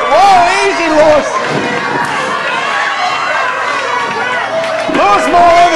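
Wrestling crowd at the Pelham Community Center cheering and shouting loudly throughout, with a dense roar of voices and excited yells rising near the start and again near the end.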